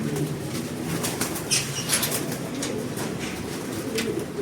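Racing pigeons in a loft coo softly among bursts of fluttering wings, close by, with a steady low background hum.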